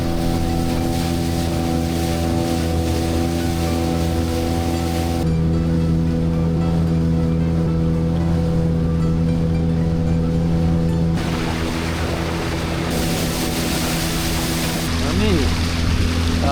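A small motorboat cruises at an unhurried pace along the Emajõgi river, its engine a steady droning hum with a tonal whine that shifts partway through, over a constant wash of wind and water.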